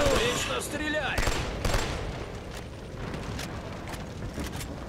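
Enemy gunfire in the video game Killzone 2 rattles in a loud opening volley of rapid shots and bursts, then fades into a rumbling battlefield din with scattered distant shots.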